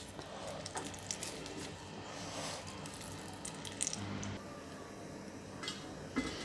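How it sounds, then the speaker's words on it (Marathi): Water straining out of fresh curdled cheese for rasgulla, a soft, quiet trickle and drip that runs steadily with faint wet squishing and no speech. "पाणी सगळे गाळून घ्यायचं."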